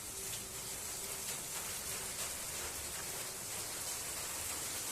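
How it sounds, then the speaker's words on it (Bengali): Steady, dense rain pouring down, a constant hiss of drops on surfaces with no pauses, fairly faint and even throughout. "বৃষ্টির জন্য কোনো শব্দই শোনা যাচ্ছে না।"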